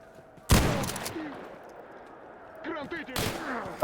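A KS-23 shotgun fires twice in a S.T.A.L.K.E.R.-style Zone game, with two loud close booms about two and a half seconds apart, each trailing off into mechanical rattles.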